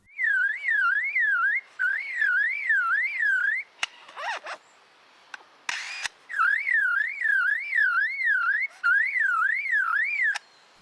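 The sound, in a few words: lyrebird imitating a car alarm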